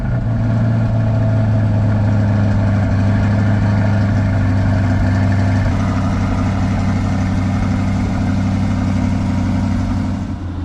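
A Chevrolet car with a performance exhaust idles steadily, its deep, loud engine rumble holding constant and close with no talking.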